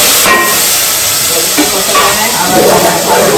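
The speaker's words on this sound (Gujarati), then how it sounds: "હવે આપણે અહીંયા દાળનો વઘાર કરી દઈશું" Hot tempering (vaghar) for dal bursts into a loud, close hiss and sizzle that flares up sharply and keeps fizzing, with a voice faintly present beneath it.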